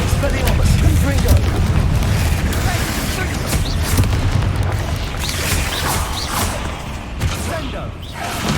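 In Hogwarts Legacy, Confringo blasting spells go off in loud, booming bursts among crackles, whooshes and mechanical clatter, over a dense battle din with spoken spell incantations.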